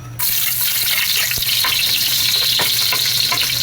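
Spices hitting a hot wok start a loud, abrupt sizzle that holds steady and close, with a few sharp pops and stirring knocks, no voices over it.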